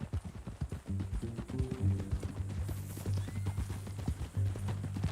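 A horse in Red Dead Redemption 2 plods along with steady clip-clopping hooves close by, then gives a whinny partway through, with faint game ambience behind.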